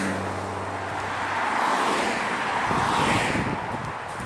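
A Ford Transit and a Porsche drive past at a roundabout, their engine and tyre roar swelling into a broad, steady rush of traffic with wind buffeting the microphone.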